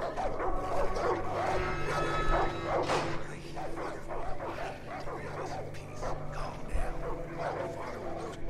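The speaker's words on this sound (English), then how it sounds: "Those dogs sound mad." Several dogs barking and yipping agitatedly in the video game Far Cry 5, a fairly loud, busy chorus of repeated barks over a steady low hum, with a voice speaking at times.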